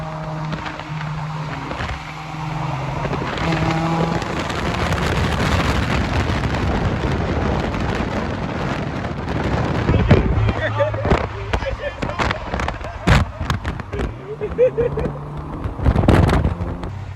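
Turbocharged Honda Accord and Honda Prelude engines accelerate hard in a street race, rising revs and shifts under wind buffeting, with sharp pops and crackles and louder bursts near the end.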